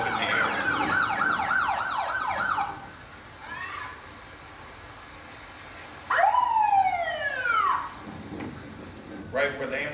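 Sirens wail from emergency vehicles passing at a tornado anniversary commemoration in Hesston, rising and falling sweeps that come in bursts, fade, then return loud and close, with voices in the background.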